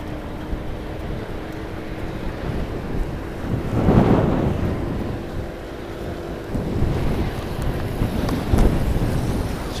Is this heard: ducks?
no